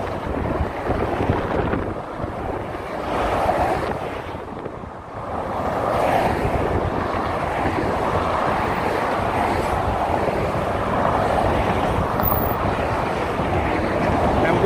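Strong gusting wind buffets the microphone on the Golden Gate Bridge, a loud, rumbling low roar that swells and dips, with a brief lull before settling into a steady blast.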